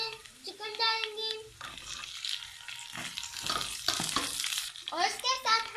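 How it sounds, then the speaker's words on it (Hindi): Chicken pieces tipped into a pan of fried onion and garlic, setting off bursts of sizzling and some stirring clatter, with a person talking in between and over the frying. "प्याज हमारा फ्राई हो चुका है। अब हम इसमें चिकन डालेंगे"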